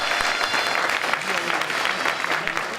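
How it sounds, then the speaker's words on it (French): Audience applause at an opening ceremony in Strasbourg, dense continuous clapping from a large crowd throughout, with a voice speaking over it. "On applaudit!"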